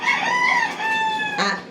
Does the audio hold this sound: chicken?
yes